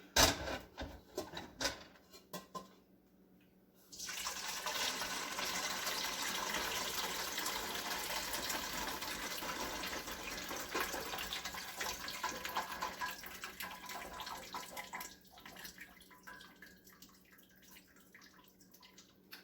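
Cooked ground meat for homemade chili is drained and rinsed under running tap water, a loud steady gush lasting about eleven seconds after some brief clattering, then fading to scattered handling noises.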